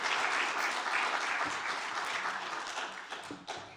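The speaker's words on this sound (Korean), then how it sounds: "박수 한번 쳐요, 박수 한번." A church congregation claps together in a warm, dense burst of applause that holds steady, then thins and tapers off toward the end, with a few sharper individual claps near the close.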